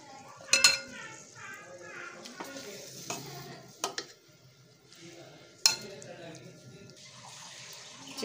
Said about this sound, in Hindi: अब हम चिकन को इस पानी से अलग निकाल लेंगे।